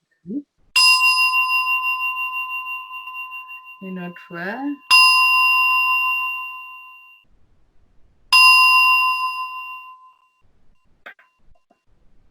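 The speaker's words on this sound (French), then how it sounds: "on va le faire un petit moment juste pour vous montrer le petit gong" A small meditation gong is struck three times, each strike ringing out clearly and slowly fading, with a short spoken phrase between the first and second strikes in a quiet room.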